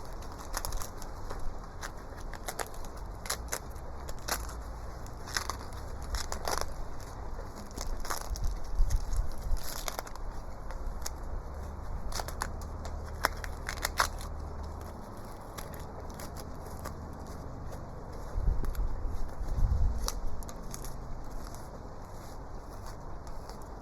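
Dried skin peels off loofah gourds in quiet, close crackles and brittle snaps that come in irregular bursts over a faint steady background hiss, with no talk.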